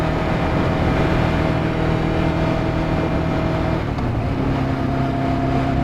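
A Kawasaki ZZR 600 motorcycle engine drones steadily and loudly at close range, its pitch dipping briefly near the end as it drops down to fourth gear during a commute.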